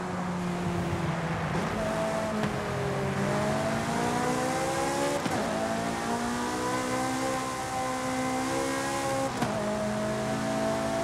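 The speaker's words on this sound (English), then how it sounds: "I was trying to follow this SLS AMG here to hear the exhaust note" A Mercedes SLS AMG exhaust note in the racing game Forza Horizon 5 plays at moderate volume. The engine revs rise and fall through repeated gear changes over a steady road rumble.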